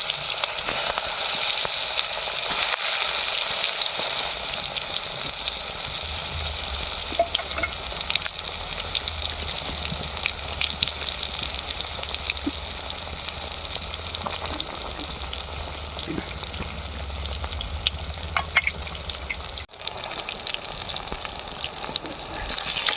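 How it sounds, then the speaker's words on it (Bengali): Eggplant slices fry in a pan of hot oil in Bengali village style, a loud, dense, unbroken sizzle that runs steadily throughout with faint low rumbling beneath. "একে একে বেগুন দেওয়া হচ্ছে, তেলে ছাড়া হচ্ছে"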